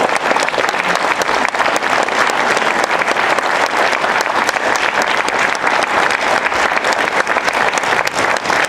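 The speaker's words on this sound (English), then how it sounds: "how about a round of applause?" Loud, sustained applause from a large crowd at a candidate forum, a dense steady wash of clapping that holds throughout.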